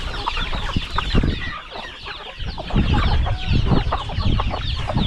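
A flock of farm chickens clucks and squawks continuously, loud and close, with overlapping calls filling the whole stretch and no talking.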